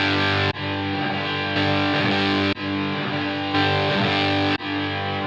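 A distorted electric guitar through a Line 6 Helix with reverb set to 100% mix, so the direct signal drops out and the reverb swells in. Sustained chords repeat roughly every second with abrupt breaks between them.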